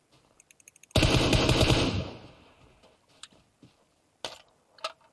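A short burst of automatic gunfire in PUBG Mobile, preceded by a few quick clicks and followed by scattered sharper shots, loud and close with no talking.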